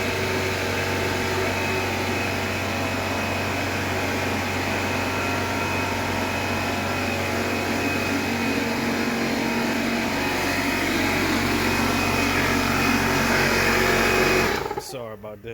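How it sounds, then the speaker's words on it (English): A shop air compressor runs loud and steady for a long stretch with a constant droning whine, then cuts off abruptly near the end. "Little rude air compressor had to cut on us."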